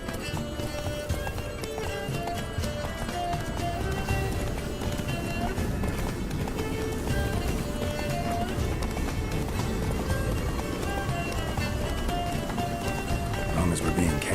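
Roach, Geralt's horse in The Witcher 3, gallops at a steady fast clip-clop through a dense game soundscape, with hoofbeats running continuously beneath voices and music.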